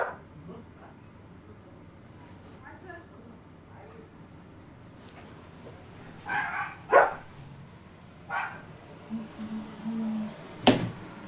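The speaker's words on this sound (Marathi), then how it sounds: "बघा आमचा किती भुंकतोय" A household pet dog barks in bursts, a few sharp woofs and yips spaced over several seconds, heard from nearby in a home kitchen where coriander vadi dough is being mixed, with faint room sounds between.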